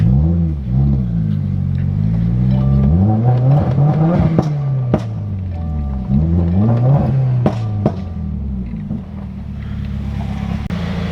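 A Subaru WRX fitted with a new intake rolls into a garage, its engine loud and close with rising and falling revs, a whooshing turbo-like tone and a few sharp clicks over the steady drone.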